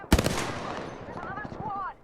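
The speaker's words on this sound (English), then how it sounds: "I can hear gunfire to the right of me." Gunfire in the video game Apex Legends, a sharp close burst of rapid shots at the start followed by a fading tail and rising tonal game effects, with no talking.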